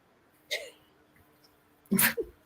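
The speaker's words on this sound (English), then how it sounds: "Was that a dog coughing, sneezing?" A small dog sneezes twice, a short snort followed by a louder, sharper sneeze in an otherwise quiet room.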